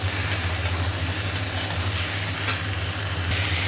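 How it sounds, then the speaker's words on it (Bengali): Tomatoes frying in a pan for a cauliflower curry, a steady broadband sizzle with soft stirring scrapes and a low background hum, close and continuous with no talking. "একটু ভাজা হয়েছে, আমি টমেটোটা দিয়ে দিলাম। আর একটু ভাজা হলে নুন দেবো"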